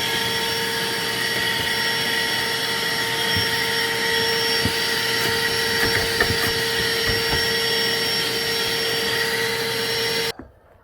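A wet/dry shop vacuum cleans out the interior of a Honda Civic hatchback, a loud, steady roaring whine with a constant pitch that holds for about ten seconds, then shuts off abruptly.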